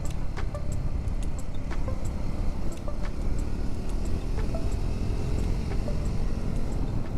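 A Triumph Scrambler 400X motorcycle is ridden through corners, giving a steady low engine drone mixed with loud, constant wind buffeting from the moving rider's position, and no talk.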